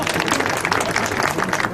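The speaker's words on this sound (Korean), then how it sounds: "박수 한번 주십시오" A crowd at an outdoor political rally in front of the National Assembly, supporting a presidential candidate, breaks into applause: dense, steady, loud clapping that fills the whole moment without pause.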